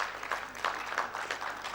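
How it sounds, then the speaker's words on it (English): Audience applause at a Nigerian chapter relaunch gathering, a fairly faint, continuous patter of many hands clapping with slight swells, heard from some distance. "please a round of applause for her"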